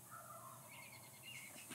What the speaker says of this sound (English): Another bird gobbled there.